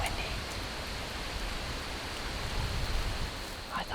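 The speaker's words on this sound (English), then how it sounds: "It's so windy." Steady broadband wind rush blowing across an open Michigan woodland during a bowhunt, loud and constant throughout with gusts swelling near the end, no talking over it.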